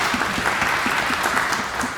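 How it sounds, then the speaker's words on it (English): Church congregation applauds in a parish sanctuary during announcements, a brief, fairly loud burst of mixed hand claps with a few distinct sharper claps standing out, no one speaking over it. "the applause for that is fine"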